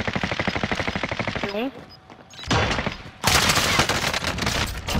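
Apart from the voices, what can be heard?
gunfire in a video game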